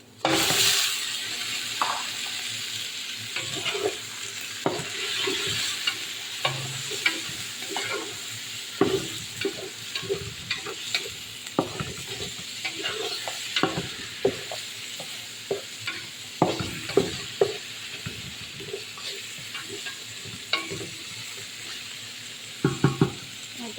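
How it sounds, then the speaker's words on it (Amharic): Meat and onions fry in a pan while a utensil stirs them, a continuous sizzle broken by scraping strokes and occasional clinks against the metal. "ይሄ በደንብ አድርጎ ተቁላልቷል።"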